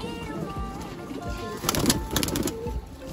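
A jhapda pigeon, a breed sold for its sky-flying kind, coos softly in repeated low murmurs. Other birds and faint background noise mix in.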